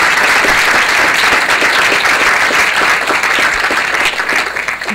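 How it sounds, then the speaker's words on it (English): Dense, loud applause from an audience thanking the panelists at a UCSF Graduate Division event on health science research; steady clapping fills the whole stretch and eases slightly near the end. "let's give our panelists a round of applause"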